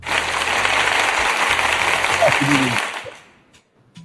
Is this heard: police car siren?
no